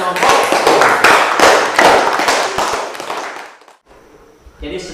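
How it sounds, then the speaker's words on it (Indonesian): A classroom group applauds together, dense overlapping claps for several seconds before fading into a brief lull. "Berikan tepuk tangan kepada kelompok."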